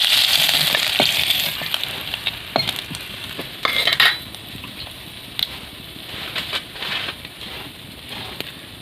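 Small puti fish being lifted out of hot frying oil in a kadai, a steady close sizzle broken by sharp metallic clinks and scrapes of the utensil, with a louder clatter near the middle.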